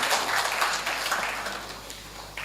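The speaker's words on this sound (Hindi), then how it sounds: "जोरदार तालियों से आप उनका" Audience applause at a Hindi kavi sammelan and mushaira poetry gathering, a burst of dense clapping from a crowd that swells briefly and then gradually tapers off over a couple of seconds.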